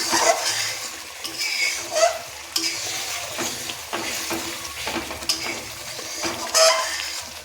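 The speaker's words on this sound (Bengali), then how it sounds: "নাড়তে থাকুন" Prawn malaikari being stirred as it fries in a pan, a sputtering sizzle broken by repeated scraping and clinking of a spatula against the pan in irregular strokes, close and moderately quiet, with no talking.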